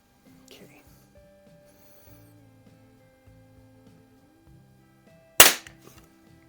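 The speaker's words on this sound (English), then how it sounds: "5-pump shot with the pellets" A restored early Crosman 760 air rifle pumped five times fires a pellet with one sharp, close crack near the end, after quiet handling noises and someone speaking.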